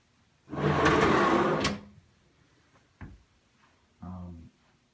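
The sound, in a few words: self-closing drawers opening and closing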